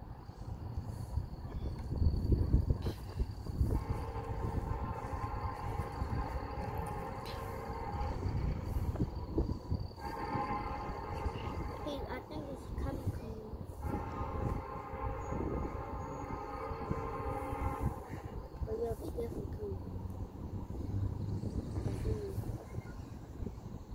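A freight train led by diesel locomotives rumbles steadily past with rolling, grinding wheel noise rising and falling in waves, heard from nearby with faint chirps in the background.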